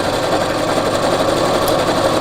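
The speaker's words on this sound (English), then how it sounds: "Your machine may sound a little bit noisier with the shirring elastic in there" A sewing machine stitches with shirring elastic in the bobbin, producing a steady, fast mechanical whirr and rattle that runs continuously and fairly loud, with no talk over it.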